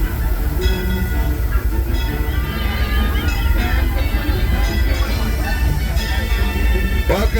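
The Disneyland Railroad train sits at Mickey's Toontown Depot in a continuous low rumble and hiss, with crowd babble, scattered clanks and a sharp burst near the end.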